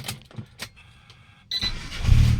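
A Mitsubishi Lancer CK2 engine at idle, with its idle set around 900 rpm. A few faint clicks come first, then a close, steady mechanical whir that grows into a louder low rumble by the end.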